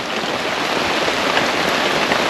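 Heavy, unceasing rain pours down around a remote island during a squid-fishing trip, a loud, dense hiss of drops drumming on surfaces with no voices over it.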